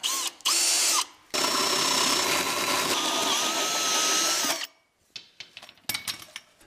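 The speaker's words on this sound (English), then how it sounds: "Drill a hole in the center of your wood." A power drill whines loudly in a few bursts, one long continuous run biting through wood, then stops, leaving faint clatter and handling noises.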